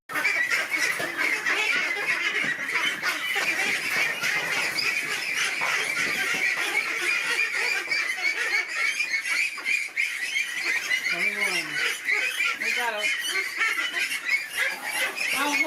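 Ducks being caught and moved into a pen give a continuous chorus of loud, close quacking and honking squawks for the whole stretch, with no clear talk.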